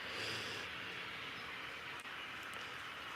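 An HO scale model train runs on a layout with a steady, dense rumbling hiss that holds at an even level throughout, with no talking.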